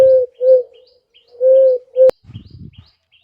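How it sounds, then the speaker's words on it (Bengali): A dove coos in a series of four short, clear tonal notes in a steady rhythm, close and loud, followed by a soft low rustle. "ঘুঘুর ডাককে ইংলিশে বলে কু।"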